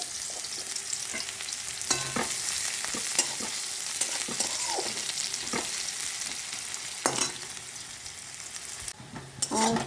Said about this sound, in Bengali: এরপর আমি পেঁয়াজটা দিয়ে দিচ্ছি, পেঁয়াজ কুচিটা।